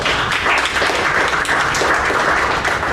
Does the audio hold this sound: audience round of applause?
yes